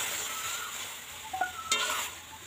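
Milk is stirred into fried semolina in a pan: a soft, quiet sizzle under a few brief scraping and clinking touches of a spoon near the end.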